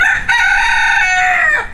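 A blue mottled rooster crows once, a loud, close, drawn-out call of nearly two seconds that ends with a falling tail.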